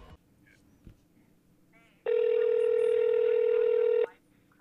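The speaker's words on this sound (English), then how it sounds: "Here, phone call." A phone ringback tone rings once as a steady, loud electronic tone for about two seconds, with faint background noise before and after and no talk.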